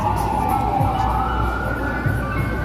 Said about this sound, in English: the sound of sirens every now and then running along the streets anywhere here in New York City